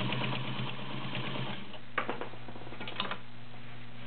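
A vintage White 565 heavy duty sewing machine with a size 16 needle stitches through six layers of Levi's denim in a fast, steady whirring run with ticking needle strokes and a couple of sharper clicks near the end.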